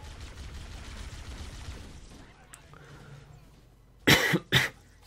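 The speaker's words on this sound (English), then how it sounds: "A little bit of a cough then." Two sharp, loud coughs close to the microphone come near the end, after several seconds of quiet background sound from a Halo CE game.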